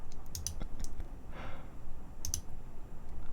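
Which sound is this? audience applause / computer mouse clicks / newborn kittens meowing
computer mouse clicks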